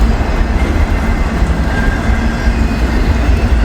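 A long, heavy freight train hauling auto racks rolls slowly past in snowy weather, a steady loud rumble of wagons with faint wheel clatter and no voices.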